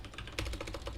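Fast, close typing on a computer keyboard, a quick rhythmic run of light key clicks with no pauses.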